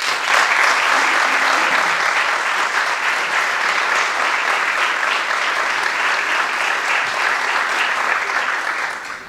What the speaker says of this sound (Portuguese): na pessoa do seu presidente Rómulo Correia, uma salva de palmas.